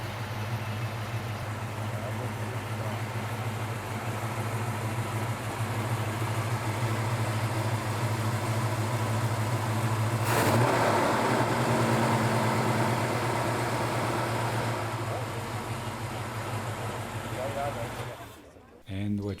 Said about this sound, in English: what you heard here was the Mustang Mach 1 from 1972